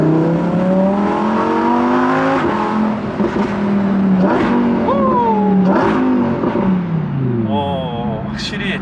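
Lamborghini Huracan Evo Spyder, top down, accelerating hard in Corsa mode: loud engine roar rising through the revs, with quick gear shifts dropping the pitch between repeated climbs, close and dominant throughout.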